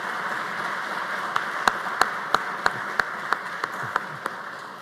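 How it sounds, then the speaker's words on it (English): Audience applause at a building dedication and honouring ceremony, a steady wash of clapping with several sharp, louder individual claps standing out near the microphone. "I think she deserves a round of applause for her unwavering support."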